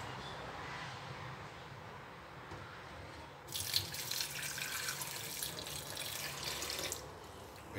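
Clear syrup pouring into an egg banana smoothie, heard as a soft steady liquid stream that starts partway through and runs for several seconds over quiet room noise before stopping.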